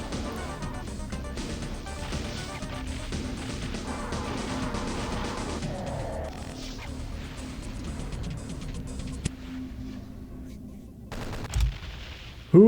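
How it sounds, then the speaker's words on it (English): Weapons fire in Doom 2 aimed at the Icon of Sin boss, a steady, dense run of repeated shots and blasts filling the whole stretch at moderate level, with a couple of sharper hits near the end. "just fire away at the Icon of Sin"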